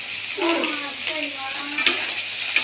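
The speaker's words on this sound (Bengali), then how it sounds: "নাড়াচ্ছি একটু কষাবো তারপরে জল দেবো" Potato and taro curry with salt being stirred and sautéed in a pan, giving a soft continuous sizzle with occasional utensil clinks and scrapes, close up.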